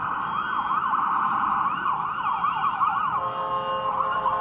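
A fire truck siren wails in a steady rising-and-falling sweep as the engine passes close by on the road, loud and continuous throughout with no talk over it.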